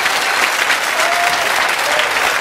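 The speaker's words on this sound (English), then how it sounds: "Ladies and gentlemen, please welcome our guests to the studio tonight. Give them a round of applause." A television talk show studio audience welcomes guests with loud, sustained applause, a thick uniform wash of many hands clapping that stays at full strength from start to finish.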